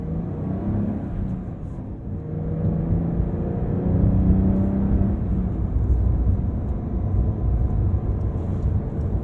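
A 2023 Porsche 911 T with a manual gearbox drives along, its engine a steady low rumble with road and tyre noise that swells slightly midway, heard from inside the cabin.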